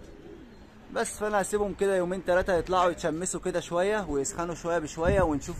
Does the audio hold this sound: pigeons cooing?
yes